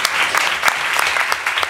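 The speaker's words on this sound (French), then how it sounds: "On peut l'applaudir." Dense audience applause fills a hall at a social media research awards ceremony, a steady close wash of many hands clapping with a few sharper claps standing out throughout.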